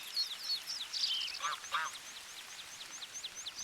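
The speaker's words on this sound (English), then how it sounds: "Look at them gooses right there, all or geese bunched up" Geese in TheHunter: Call of the Wild at Salzwiesen Park give a burst of honks and quacks from a bunched flock, several calls overlapping early on, then thinner scattered calls trailing off at moderate distance with no talk.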